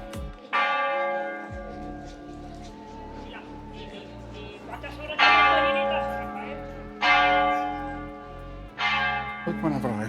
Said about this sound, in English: whenever I show up past the church, the bells start ringing